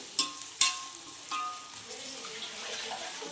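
Ingredients for dum biryani fry in a pan, with a couple of sharp clanks of a stirring utensil early on, then a softer, steady sizzle with light stirring.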